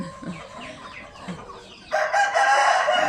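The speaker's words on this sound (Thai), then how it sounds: "ไก่ชนนะคะ เลี้ยงตีเลี้ยงขัน" Thai fighting cocks crow at a village home in Korat, with faint quieter calls first, then a loud, sustained cock-a-doodle-doo close by that lasts about a second.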